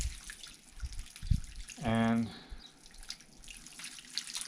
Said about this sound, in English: now we're just putting the cold water on his leg